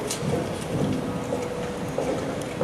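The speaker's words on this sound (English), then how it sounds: "It's been raining so hard, maybe it'll clear up." Heavy rain pours steadily with low rumbling thunder underneath, a staged storm effect in a theatre production of Our Town, dense and continuous with no voices.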